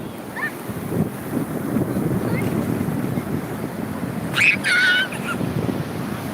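Ocean waves on a Konkan beach, a rushing surf and wind roar that swells near the end, with brief distant voices rising above it.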